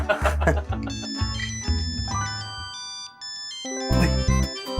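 A bright electronic phone ringtone plays a melodic tune, up close, over a steady musical background with deep bass notes.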